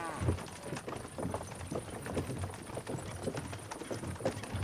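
Horses pulling a cart in the medieval game Kingdom Come: Deliverance II, their hooves clip-clopping in a steady, close rhythm throughout, with voices faintly present underneath.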